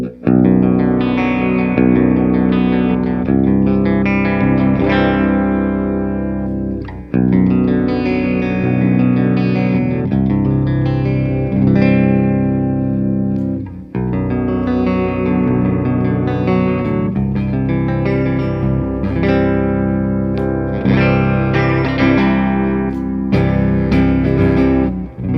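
An electric guitar in B standard tuning, played through its bridge and neck pickups, chugs out heavily distorted riffs with chorus-like effects, in loud sustained phrases with short pauses and no talking.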